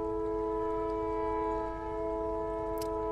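At a railway station platform, a train sounds a long, steady, loud horn that holds one chord throughout over a low rumble of rail noise.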